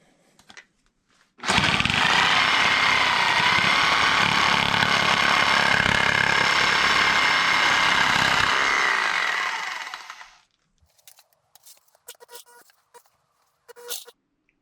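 A Sawzall reciprocating saw with a freshly sharpened blade runs at full speed for about nine seconds, a loud, dense, buzzing roar that starts abruptly and winds down, followed by a few faint clicks and knocks.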